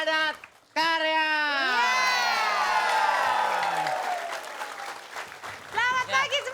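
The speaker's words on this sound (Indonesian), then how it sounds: "Tepuk tangan yang meriah untuk Padat Karya" A studio audience at an Indonesian comedy show breaks into lively applause and cheering, with rising and falling whoops and shouts over a steady wash of clapping that fades slightly before a brief renewed burst.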